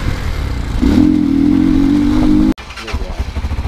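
An X Treme Maxx motorcycle carrying a passenger rides close by, its engine droning at a steady pitch before cutting off sharply, followed by rough rumbling and wind.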